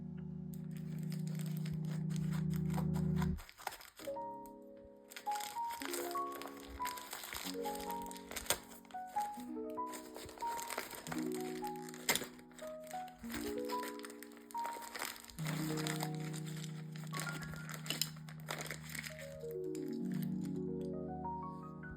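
Plastic packaging of a Lego set crinkles and rustles in repeated bursts, close up, with short pauses between handling sounds.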